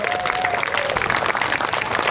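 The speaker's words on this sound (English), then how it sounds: "Let's give them a big round of applause" Steady applause from a crowd at a Moose Lake "Blue Ribbon City" ceremony, dense continuous clapping at even loudness throughout.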